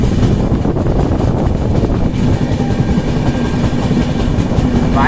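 The Jammu Tawi Express, a passenger train running between Gosainganj and Ayodhya Dham Junction, gives a continuous close rumble of wheels on rails with a rhythmic rattle and steady gusting wind noise, and no voices.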